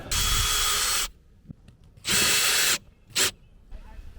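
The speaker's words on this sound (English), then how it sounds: "for the bracket, we're going to use the 4 self-tapping screws that were provided with the kit" A power drill drives self-tapping screws into the mounting bracket of an Auto-Vox solar-powered backup camera. Two loud whirring runs of about a second each come first, then a short final burst, with quiet pauses between them.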